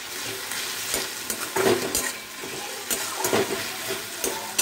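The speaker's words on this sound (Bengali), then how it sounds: "টমেটো আর কাঁচা লঙ্কা একসাথে দিচ্ছি, তোমরা টমেটোটা আগে দিয়ে দিতে পারো। আবার নাড়াচাড়া করে নিচ্ছি" Tomato and green chili frying in a pan while being stirred, with a steady sizzle and repeated scraping strokes of a spoon against the pan, close and continuous with no talking.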